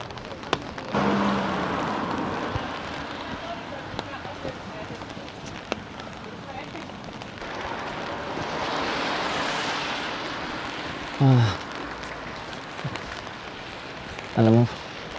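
Rain falls while people walk through the streets of Kyoto, a steady hiss of drops on the ground nearby that persists throughout, with a few brief voices and clatters over it.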